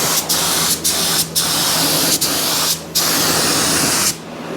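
Close aerosol spray paint bursts coating the insides of a car's fenders: five or six long steady hissing sprays, each separated by a brief pause, loud and alone.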